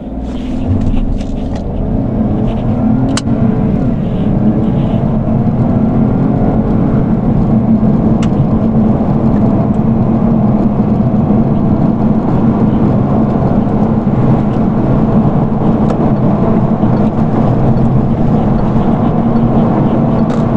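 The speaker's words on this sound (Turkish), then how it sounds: "Şurada yokuş yukarı bir daha sıfırdan kaldırmak istiyorum." A Peugeot 308 GT with the 1.2 PureTech engine and EAT8 automatic pulls away uphill from a standstill, making a loud, steady engine drone that holds strong throughout, heard from inside the car with no talk.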